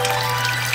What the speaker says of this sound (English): I bought this special machine off Amazon, which apparently is supposed to simulate a realistic waterfall.